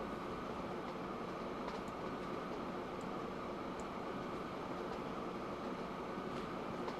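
A train running through a railway scene in the video game Train Fever: a steady, continuous rumble of rolling rail cars with faint, scattered squeaks, heard alone without speech.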